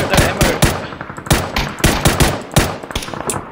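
Rapid bursts of automatic gunfire in the PUBG battle royale shooter, loud and close, with several quick volleys and brief gaps over about three seconds and no talking.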